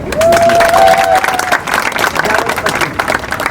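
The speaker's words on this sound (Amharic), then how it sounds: "የታለ ጭብጨባው?" Audience applause and clapping at an Ethiopian community solidarity rally in Boston, a loud sustained crowd burst with some cheering that stays fairly steady before easing slightly.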